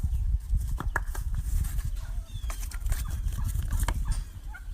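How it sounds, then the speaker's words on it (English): Chickens clucking and calling in a farm pasture, several short clucks scattered over steady outdoor rustling and shuffling, moderately close, with no clear talk. "No desire to see a chicken?"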